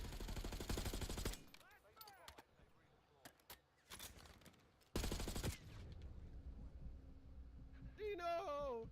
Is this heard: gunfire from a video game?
yes